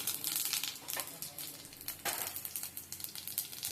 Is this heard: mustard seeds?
yes